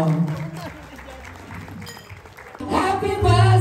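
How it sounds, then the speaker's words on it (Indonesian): Audience clapping for three daughters at a birthday party in a restaurant, a dense, steady patter of applause mixed with voices and cheering that swells louder toward the end. "Tepuk tangan dong untuk 3 putri Mama."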